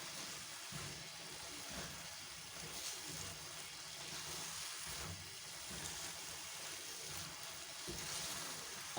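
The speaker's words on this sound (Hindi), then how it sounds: "अब फ्राई होगी किशमिश और खजूर" Raisins and dates fry in oil for carrot halwa, a soft continuous sizzle and hiss with faint stirring scrapes, low and steady throughout.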